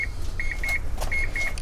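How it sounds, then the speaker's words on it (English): Repeated high electronic beeps in short pairs and single tones from a 2002 Mazda RX-7 Spirit R Type-A key-in-ignition warning, over a low idling rumble, steady and fairly close. "take the key out of the ignition to stop that annoying beeping noise"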